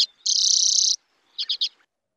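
Wintering bird with a red forehead and yellow beak gives a high, sustained trilling note followed by three quick chirps, clear and close with no other sounds.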